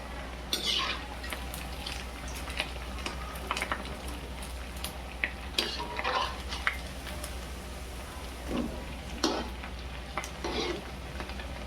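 Rava medu vada frying in hot oil as each one is turned over, a continuous soft sizzle with scattered clinks and scrapes of a utensil against the pan.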